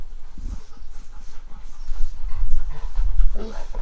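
German Shepherds panting in quick, rough breaths close by in kennels, with some shuffling and low rumbling noise underneath.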